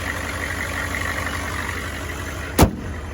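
A Land Rover Discovery converted to a 6.5 turbo diesel with a Mercedes fan idles in a steady, even, mid-low rumble, broken by one sharp click or knock near the end.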